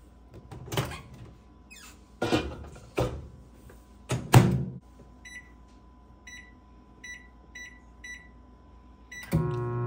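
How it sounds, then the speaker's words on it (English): Door clunks and handling thumps, then a microwave hums steadily while cooking praline candy, with a series of short beeps repeating at regular intervals. "Now that everything has been well incorporated, we're about to add it to the microwave."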